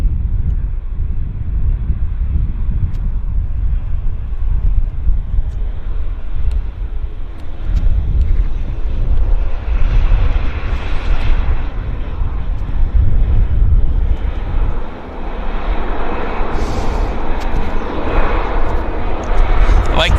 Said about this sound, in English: Rolling out nicely on the WestJet.